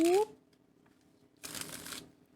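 Tarot cards being bridge-shuffled, a short burst of card riffling near the start, then a longer, louder papery riffle and cascade close by, with a brief voice at the opening.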